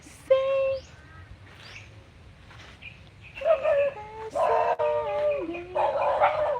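A dog barks and yelps repeatedly in a busy outdoor setting, with voices talking and birds calling in the background.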